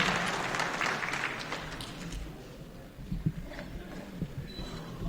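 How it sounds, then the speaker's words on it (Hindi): Audience clapping at a book launch ceremony in a hall, a dense burst of applause that thins into scattered claps. "कृपया हृदय से जोरदार ताली बजाकर"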